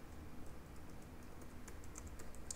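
Soft, quick keystrokes on a computer keyboard while coding a Laravel e-commerce project: a faint, steady run of light clicks at low volume with no voice.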